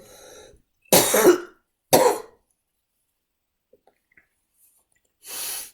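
Two sharp, loud coughs close together, followed by a short burst of breathy noise after a pause; a faint murmur opens the clip.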